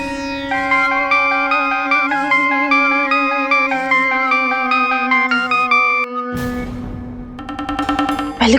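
A bright electronic melody of repeated chiming notes plays steadily over a low hum, then breaks into a burst of noise and a short jingle near the end.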